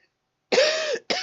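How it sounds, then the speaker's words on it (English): A single harsh adult cough, sharp and close, followed by the start of a second cough. "Excuse the cough."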